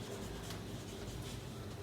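Writing on paper or a board during a maths problem, a soft continuous scratching and rubbing, faint and close, with no voices.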